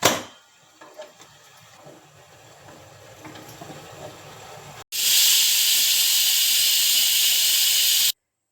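A pressure cooker of chicken head curry, lid on: low bubbling and faint clatter give way to a loud, steady jet of escaping steam that holds for about three seconds, then cuts off abruptly.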